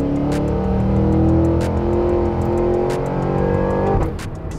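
A 682-horsepower Cadillac Escalade-V full-size SUV engine revs loud and close, a sustained throaty roar that swells and holds steady before dropping off sharply near the end, with no talking.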